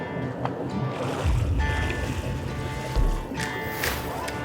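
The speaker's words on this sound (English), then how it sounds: "just go forward on the port engine" A boat's low port engine rumbles steadily over lapping water, with a couple of brief surges in the low end as the boat pushes forward.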